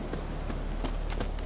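A horse's hooves clip-clop in a steady rhythm while riding in The Witcher 3, the hoofbeats sitting inside a dense, continuous wash of game ambience and wind noise.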